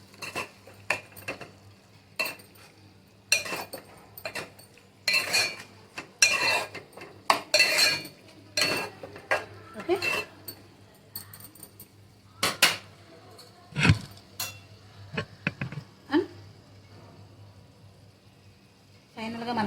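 A spoon scrapes and clinks steadily in a pan of drumstick and tomato curry as red chilli powder is mixed in, close metallic knocks and rasping stirs continuing for several seconds.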